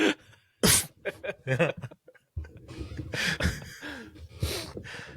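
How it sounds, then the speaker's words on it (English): A short, forceful human sneeze bursts out sharply near the start, followed by a pause and then people chatting and laughing nearby. "There's a short, just an aggressive sneeze."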